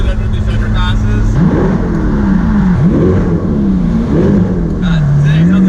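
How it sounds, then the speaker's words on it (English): A C8 Corvette's exhaust roars loud and close beneath an underpass, rising in repeated revving sweeps as the car accelerates through the gears, each climb echoing off the concrete. "The exhaust sounds so good under these underpasses."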